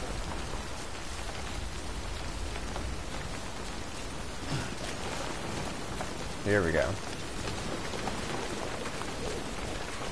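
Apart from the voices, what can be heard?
windy rain in video game Death Stranding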